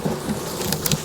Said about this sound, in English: there are a lot of bees in this box